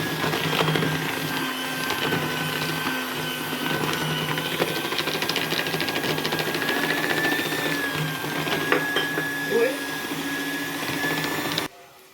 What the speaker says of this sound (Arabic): وهضربهم بقى بالمضرب كويس